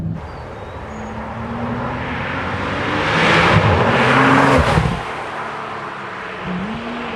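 Porsche 911 Turbo 991.1 with a 3.8-liter twin-turbo flat-six, heard from inside while driving: a steady engine drone rises in pitch under acceleration, peaks with a loud rush of induction and road noise, then drops back to a lower cruise.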